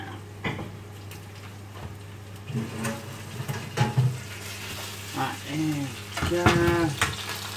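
Vegan mince frying in a pan, a soft steady sizzle under a low hum, with someone talking and occasional stirring and clattering.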